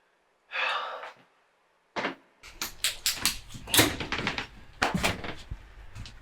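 Repeated heavy knocking or banging on a door, loud and close, in an uneven rhythm that runs for several seconds, preceded by a brief breathy gasp, in a tense crime-thriller setting.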